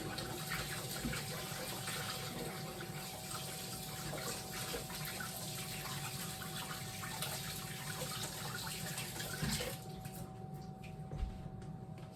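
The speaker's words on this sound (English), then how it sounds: "Now, I'm gonna just rinse my hands" Water from a kitchen tap runs steadily while hands are rinsed beneath it, a continuous close splashing gush that stops near the end and leaves a quieter tail.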